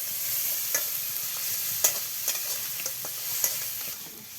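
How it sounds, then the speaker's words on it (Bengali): A ground spice paste of garlic, mustard, nut and onion with turmeric, salt and chilli is stir-fried for a village chicken curry: steady hot sizzling with a few scraping stirs, close and continuous. "বন্ধুরা, মশলা কষানো হয়ে গিয়েছে।"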